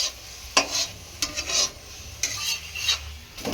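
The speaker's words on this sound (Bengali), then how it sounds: "তো এরকম করে ভেজে নিতে হবে আলু পরোটা।" A potato-stuffed aloo paratha fries in a pan with a moderate sizzle, punctuated by repeated spatula scrapes and clinks against the pan.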